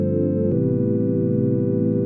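Synth chords built from smooth sine wave tones hold as a steady, even sustain, with one chord change early on and no other sounds.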